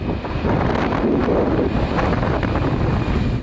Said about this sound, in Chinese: 桃园机场镜头均被狂风刮得晃来晃去